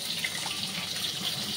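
Water poured from a tap into a fish spice paste of cumin, coriander, garam masala, pepper, salt and sugar in a home kitchen, a steady close hiss of running water with no talk.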